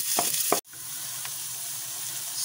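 A head of chopped onion sizzles in hot oil in a pan, a steady close frying hiss after a couple of short clattering sounds, with no voices.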